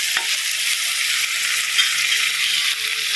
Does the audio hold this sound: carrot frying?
yes